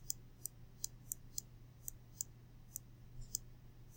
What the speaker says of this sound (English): So you're going to hear my mouse clicking.